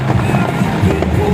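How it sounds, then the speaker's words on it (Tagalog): Fireworks burst over Luneta Park in Manila, a loud, dense crackle and rumble filling the air continuously. "Fireworks ngayon dito sa Luneta"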